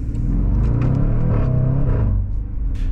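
Jaguar F-Pace SVR with its 5.0-litre V8 pulling hard under throttle, a dense, loud, steady engine rumble that holds its roar for nearly three seconds with no voices over it.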